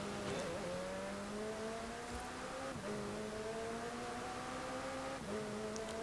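A race car engine in Forza Horizon 4 drones steadily through a seasonal championship race, its pitch climbing with dips at the gear shifts, loud and close with no talk.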